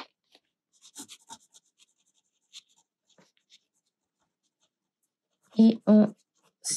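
A pen scratches across a Zentangle paper tile in faint, sparse strokes, then falls quiet before a short burst of close voice near the end.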